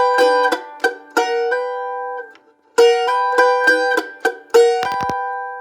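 A mandolin plays a slow picked passage of bright plucked notes, some left ringing and others cut short as percussive muted dead notes, with a brief pause partway through.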